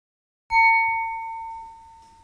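A single bright bell ding sound effect strikes once after a short silence and rings on with a clear sustained tone that slowly fades.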